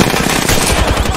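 Rapid automatic gunfire in the Apex Legends shooter, a short loud burst of close, dense shots with no pause.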